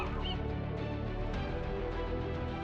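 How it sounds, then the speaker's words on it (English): Gulls calling around the ferry to Alcatraz, a steady dense clamor of bird cries over loud engine and wind noise, with no talk. "Relax there, seagulls. I know you guys are excited."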